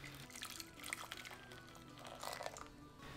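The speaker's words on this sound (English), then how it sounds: "Start off with the Guinness beer. 1 cup, 250 milliliters, poured into the saucepan off heat." Guinness beer pours into a saucepan off the heat with a soft splashing, fizzing rush of liquid that runs steadily for a few seconds and then eases, close and fairly quiet.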